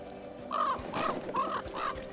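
A crow in Dragon Age: The Veilguard video game gives four harsh caws in quick succession, close and clear over a low ambient game backdrop.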